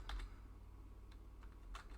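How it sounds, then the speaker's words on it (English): A computer keyboard on a Windows 11 PC gives a few quiet, scattered key clicks in a short burst of typing, soft and close against a low background hum. "just start typing"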